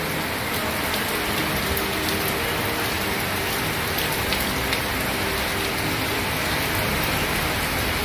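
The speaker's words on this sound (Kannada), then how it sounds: "ಹಂಗೆ ಮುಂದಕ್ಕೆ ನೋಡಿ ಮಳೆ ಬರ್ತಾ ಇದೆ" Steady rain falls during an outdoor procession at an Ayurvedic college event, a dense, even hiss of drops on surfaces with no voices.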